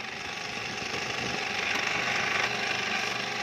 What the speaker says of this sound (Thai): ต่อไปเราก็เจาะเลยนะครับ